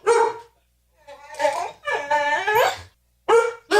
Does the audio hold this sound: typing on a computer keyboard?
no